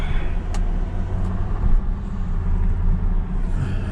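A 1992 Lexus SC400 with its V8 cruising on the road, a steady low engine rumble and road noise continuing evenly throughout from inside the cabin, with no talking.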